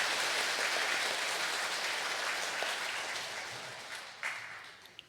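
Congregation applause welcoming new members during a Catholic Sunday Mass, a dense steady wash of many hands that slowly fades, ending with a few scattered late claps.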